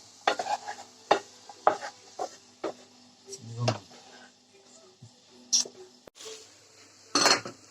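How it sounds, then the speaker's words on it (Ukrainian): Apples and onion stew in oil in a pan while a spoon stirs them, producing scattered, distinct clinks and scrapes against the metal over a soft, low simmer. "Додаємо яблука і далі тушкуємо, поки вони не стануть м'ягенькі."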